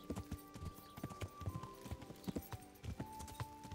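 Hooves of a ridden horse in Kingdom Come: Deliverance clop in a steady, uneven rhythm, close and moderately quiet, with a faint held tone running underneath.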